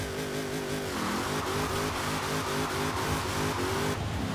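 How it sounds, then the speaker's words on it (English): Revving engine of a 1300+ hp engine-swapped Chevy Monte Carlo in Forza Horizon 4 during a second-gear launch, loud and steady with wavering pitch that climbs and dips in repeated pulls. "Let's try a second gear launch."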